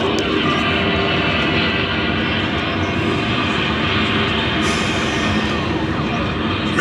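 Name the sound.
rocket main engine test sound effect from LEGOLAND exhibit button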